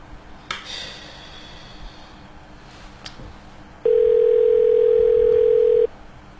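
Telephone call attempt: faint handset noise and a couple of clicks, then a steady loud single-pitch tone holding for about two seconds before cutting off.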